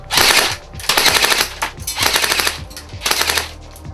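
Loud, close airsoft rifle fire in quick rattling bursts, four runs of rapid shots separated by brief pauses.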